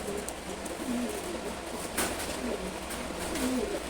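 Silver Gorra baby pigeons, about two months ten days old, give soft repeated low coos at a steady close distance over faint background hiss, with no voices.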